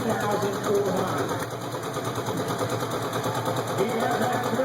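A turbocharged John Deere tractor at a 2012 Mt Hope tractor pull drones steadily at a buzzing idle, partly masked by someone talking over it.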